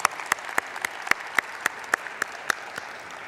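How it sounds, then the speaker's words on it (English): Audience at a Martin Luther King Jr. celebration clapping for essay contest runners-up, a scattered round of applause with distinct individual claps standing out, moderately close and steady, with no talking over it. "I'm going to applaud for them anyway."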